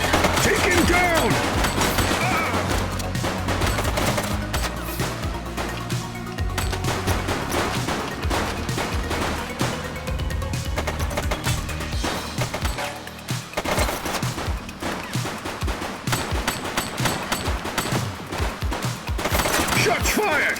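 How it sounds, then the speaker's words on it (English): Rapid bursts of gunfire from the police video game The Precinct, loud and dense with machine-gun volleys and single shots overlapping continuously, with brief voices mixed in. "Shots fired!"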